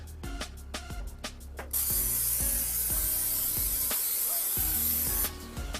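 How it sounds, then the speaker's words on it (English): A steady hissing spray of cooking spray over a sink blasts for a few seconds after some light clattering, then cuts off. "I'm going to take my spray stuff that I really don't like using"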